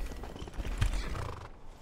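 Horse in the video game Skyrim gives a whinny over clip-clopping hooves, with a sharp hoof strike near the middle, fairly loud and close with no talk.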